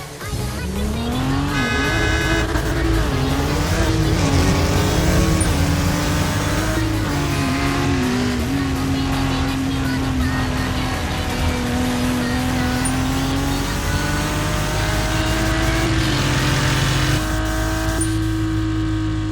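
Car engine in the REVHEAD racing video game, revving and accelerating steadily through gear changes with a droning pitch, loud and continuous throughout, with occasional tire squeal.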